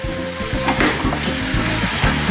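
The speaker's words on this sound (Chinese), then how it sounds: "用筷子炒呢比较容易散啊" A big ten-jin batch of rice noodles stir-fried with chopsticks in a hot wok on a TV cooking show, with loud continuous sizzling and rhythmic scraping, tossing strokes throughout.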